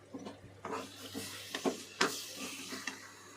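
Brinjal and potato curry stirred in a pan over a slow flame, a run of close, sharp spoon scrapes and clinks against the metal, with a soft simmer underneath.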